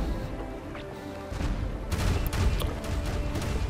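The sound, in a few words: brimstone cannons firing in video game Pirates Online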